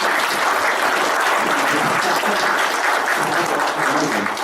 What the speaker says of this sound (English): I think that deserves a round of applause, eh?